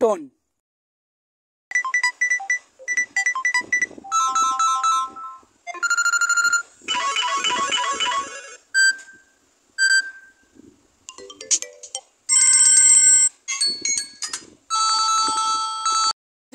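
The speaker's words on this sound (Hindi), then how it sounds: "आप लोग सुनिए मेरे मोबाइल फोन का रिंग" A mobile phone plays a melodic electronic ringtone, bursts of bright synthesized tones in a repeating tune separated by short gaps.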